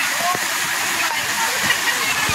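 A waterfall roars as a steady, loud broadband rush of falling water, close by and continuous throughout.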